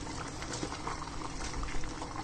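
Thai red curry made with canned coconut milk boils in a pot, giving a steady, dense bubbling and hissing simmer that runs without a break, close by and fairly quiet, with no talking.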